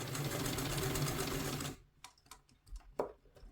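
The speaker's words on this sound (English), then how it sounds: "I'm just going to stitch in the ditch from here, removing my pins as I go" A sewing machine stitches in the ditch on a two-piece collar in a fast, loud continuous run that stops abruptly, followed by scattered light clicks and handling sounds.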